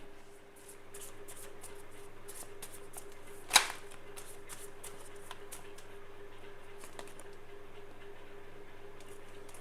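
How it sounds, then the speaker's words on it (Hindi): Scattered tarot cards gathered back up after falling: soft, faint rustling and card slides with one sharp tap midway, over a low steady room hum. "मैं एक बार कार्ड्स उठाऊं।"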